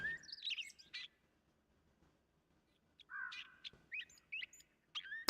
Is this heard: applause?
no